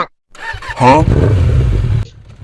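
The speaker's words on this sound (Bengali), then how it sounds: "একবার সুইচ দিলেন হোন্ডার স্টার্ট হলো" A Honda motorcycle engine catches and settles into a steady, loud idle after a brief initial burst, running continuously for about a second and a half before cutting off.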